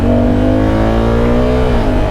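A 2024 Honda Africa Twin DCT motorcycle engine revs hard at full throttle, a loud, steady roar with rising harmonic pitch that holds and then eases slightly near the end.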